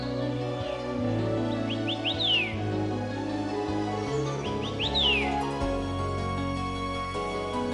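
Birdsong in a national forest recreation area, several short rising and falling whistled phrases repeating in bursts, moderately distant, over a layered droning background.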